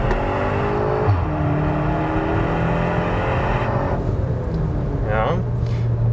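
A Cupra Ateca with its exhaust flaps held open, the engine revving and accelerating loudly and continuously with rising and falling tone, someone speaking over the sound.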